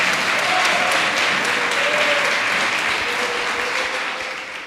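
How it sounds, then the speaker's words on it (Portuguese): A church congregation applauds during a sermon, a loud, full, continuous clapping from many people, with faint voices briefly heard beneath it before it starts tapering off at the end. "Pode dar uma salva de palmas para Jesus aí então."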